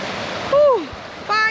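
A flowing stream on a hiking trail in the Lake District gives a steady, close rushing wash of water that runs the whole time, while voices talk over it in short bursts.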